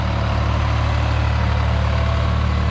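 Close, steady rumble of a 55 hp New Holland T580B tractor diesel idling, fitted with a grading blade, holding an even low pulsing drone throughout.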